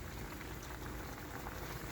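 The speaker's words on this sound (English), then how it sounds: "Now we have that bubbling" Teriyaki glaze for salmon bubbles hard on high heat in a pan, a dense, continuous sizzling crackle, loud and close, with no talking.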